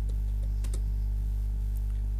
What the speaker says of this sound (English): you can do this stuff by going to run and typing